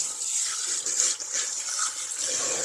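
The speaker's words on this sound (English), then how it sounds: "let's wash that down" Water runs steadily at close range in a broad, continuous hiss with no voices, as something is being washed down.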